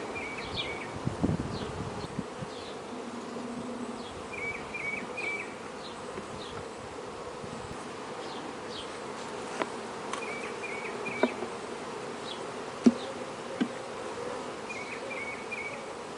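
A virgin queen honeybee pipes inside an open hive, short repeated toots rising above a constant hum of worker bees, with faint handling noises and occasional clicks.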